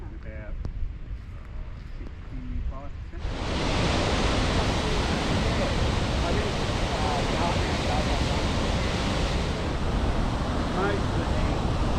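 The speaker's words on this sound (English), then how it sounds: "See all that spray coming up? That's from the outlet on the other side of the wall there." Water spray rising from a dam spillway outlet at Tully Gorge: a dense, loud hiss of rushing water that starts abruptly after a few seconds of quieter outdoor ambience and then holds steady, with voices faintly under it at the start.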